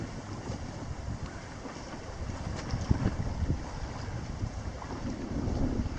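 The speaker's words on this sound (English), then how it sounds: "really gotten windy this afternoon" Steady afternoon wind roars and buffets outdoors in the Boundary Waters wilderness in July, a continuous rumbling rush with occasional stronger gusts and no voices.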